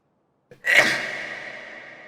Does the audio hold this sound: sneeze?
yes